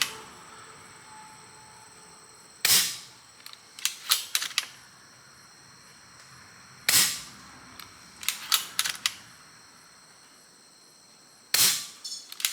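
Umarex Notos G2 air rifle firing at a 73-yard target: three sharp, close pops spaced several seconds apart, each followed by a quick cluster of mechanical clicks from cycling the action, with quiet between.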